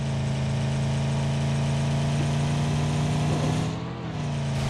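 A vehicle engine in the PUBG video game hums steadily at a low, even drone, loud and close throughout, with a brief dip near the end before resuming.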